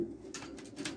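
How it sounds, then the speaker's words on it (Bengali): Pigeons kept for sale coo softly in short repeated calls at close range, with no talking. "দেখুন অনেক ভালো কবুতর।"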